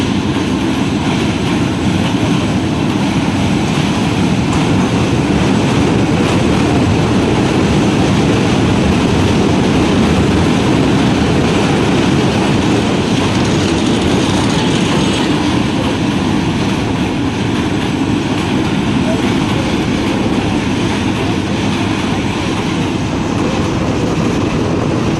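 A passenger train in Bangladesh runs steadily, heard from its roof, a loud continuous rumble and rattle of rail cars with wind noise, lasting throughout without pause.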